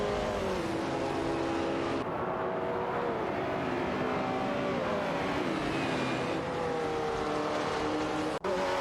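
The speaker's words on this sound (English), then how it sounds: "We're just in time to watch some thrilling AI race car action" Race cars in an AI racing video game accelerate and pass in a steady, loud engine drone with rising and falling revs, gear-shift tones sliding up and down, and a brief dropout near the end, with no talking.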